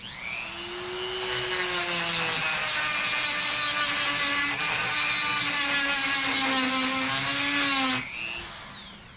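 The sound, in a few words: rotary tool grinder bit grinding shotgun metal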